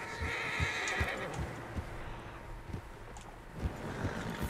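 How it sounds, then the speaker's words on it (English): Several horses whinny and their hooves clip-clop steadily in Red Dead Redemption 2, loud and near, with repeated neighs over rhythmic hoofbeats. "Horses, quite a few of them."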